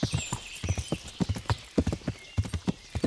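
Horse hooves clip-clop in a quick, uneven rhythm in the video game Kingdom Come: Deliverance, close by and moderately loud, with no talking.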